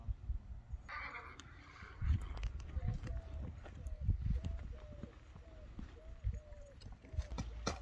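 A large horse moves at a country gathering in Nookat, its hooves clip-clopping in a steady rhythm amid outdoor crowd noise, with a horse whinnying briefly and people talking throughout.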